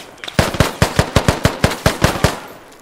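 Rapid video game gunfire, a burst of about a dozen sharp, evenly spaced shots rattling off in quick succession, loud and close with no talk over it.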